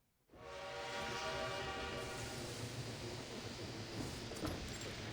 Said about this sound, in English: The train pulls into the station with a long whistle.